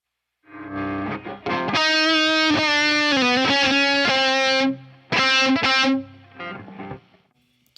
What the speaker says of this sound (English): I use the tube screamer to boost it up a little bit hotter.